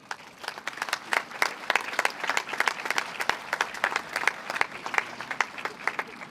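Audience clapping at the inauguration of a Concept Fruits production factory, sustained, fairly even applause from a crowd with a little speech mixed in.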